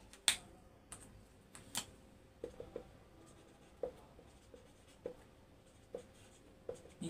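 Chalk or marker writing on a board in a maths lesson on LCM, heard as a scattered series of short, sharp taps and strokes at moderate level with quiet gaps in between, no talk.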